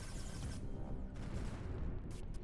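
Dense, continuous rumble of space-battle explosions and weapon fire in the strategy game Terra Invicta, a loud overlapping barrage of booms with no gaps and no talk.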